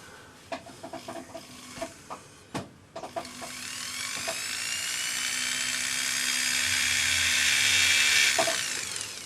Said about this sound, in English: spin it up, and you can just touch the burr to the metal